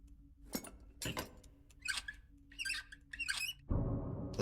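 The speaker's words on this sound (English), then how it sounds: "As it's screwing in, it kind of makes bird noises" A part screwing into place in the puzzle game Boxes: Lost Fragments gives a run of bird-like chirping squeaks in short bursts, followed by a duller mechanical clunk and rumble at the end.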